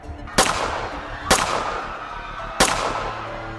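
Three sharp pistol shots fired in rapid succession at a motorcade, each a loud broadband crack with a short decaying tail, evenly spaced about a second apart over low background noise.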